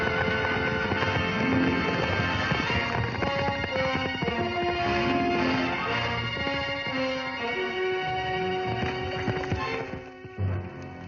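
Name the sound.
horse hooves clip-clopping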